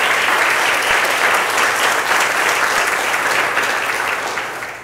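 A church congregation at an evening service applauds steadily for several seconds, with dense, close, even clapping that tapers slightly at the end and no talking over it.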